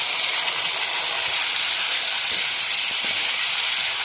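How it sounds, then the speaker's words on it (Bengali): Fish being fried with onion, ginger and garlic paste in a pan, a steady close hiss of sizzling oil running unbroken throughout with no talking. "মাছগুলো দিয়ে দিই, একটু কষাবো"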